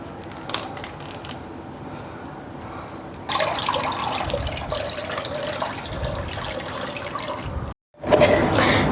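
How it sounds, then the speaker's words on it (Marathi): Water drains from an opened coconut, first a faint trickle, then a louder steady pouring stream that stops briefly before a final gush. "आपण नारळ घेतला, आपण नारळ पाणी काढून घेऊया त्याचं"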